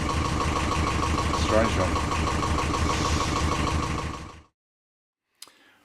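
A sailboat's inboard engine runs steadily after a hand pump repair, a loud continuous mechanical drone that cuts off abruptly near the end, followed by a brief knock. A voice speaks briefly over the engine.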